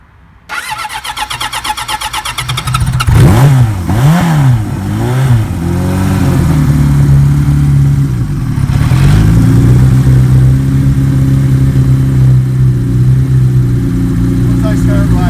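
A 1976 Kawasaki KZ900 Turbo motorcycle cranks, fires up and revs in several loud rising and falling surges before settling into a steady, rumbling idle up close, with a voice talking over it.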